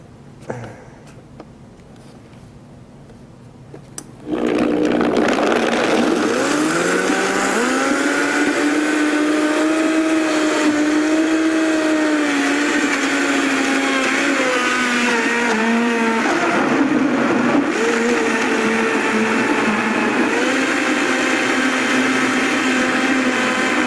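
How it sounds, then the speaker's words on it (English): A Vitamix blender switched on to blend a green smoothie, the motor jumping to a loud steady whine that climbs in pitch as the blades get going and keeps roaring evenly to the end after a few quiet handling knocks. "So I'll show you how this Vitamix works. So we're going to flip this on."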